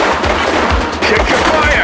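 Gunfire in The Precinct: a dense, loud burst of rapid shots and crackling impacts over a busy backdrop of game noise.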